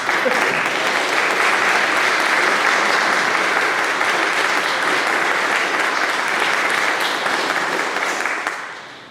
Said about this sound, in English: Can I get a round of applause for our wonderful scouts?